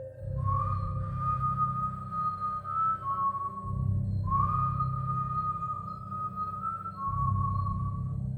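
A drawn-out, wavering whistle repeats in two long phrases, each sliding slightly downward, over a low steady hum; no one speaks.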